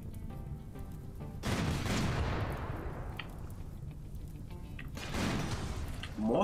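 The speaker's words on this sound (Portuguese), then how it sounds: "Ele tá com o canhão infernal." A hellcannon firing in the game Rimworld during a sea-ice challenge, heavy booming blasts with long rumbling decays, two big bursts over steady background battle noise.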